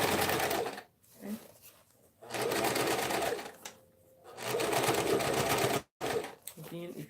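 Sewing machine stitching the lining of a tote bag, running in several steady bursts of whirring with short pauses between them, with speech in parts of the clip.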